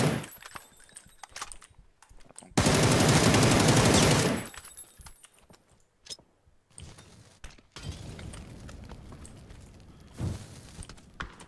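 Gunfire in PUBG, a battle royale shooter, comes as a dense, loud sustained burst of automatic fire followed by scattered sharper shots and impacts, with quieter gaps between.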